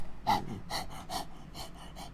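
A human voice imitates panting with about six breathy puffs in a quick, slightly uneven rhythm, close and moderately loud with short gaps between the breaths.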